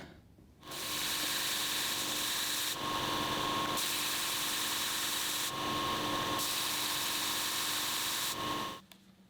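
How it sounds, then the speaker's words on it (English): An oscillating belt sander shaping angles on wood pieces whirs steadily with a continuous high hum, grinding louder during several passes of contact, then cuts off. "that's done quickest with my oscillating belt sander"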